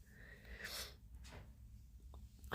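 A pet bunny gives a quick, tiny sneeze, breathy and faint in a quiet room, followed by a soft snuffle and a slightly louder sound at the very end.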